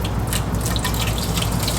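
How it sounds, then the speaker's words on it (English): Coolant water from a 20-year-old MG Midget's cooling system flush drips and splashes onto a garage floor in a steady, close, continuous patter of small drops with no voices. "We have a leak. It seems to be going on the floor."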